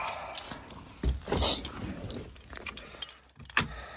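A set of car keys for a 1998 Honda Civic hatchback jangles in a series of short metallic clinks and rattles, close and moderately loud, alone with no talking.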